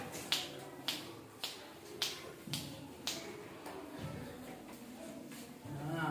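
Finger snaps in a classroom maths counting activity, about eight or nine sharp clicks in an uneven sequence, fairly close, with faint background murmur and a teacher's voice briefly at the end.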